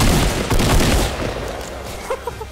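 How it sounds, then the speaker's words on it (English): Rapid bursts of gunfire in the Fortnite battle royale video game, loud and dense at first, then thinning to a few scattered shots and impacts. "they were getting shot at"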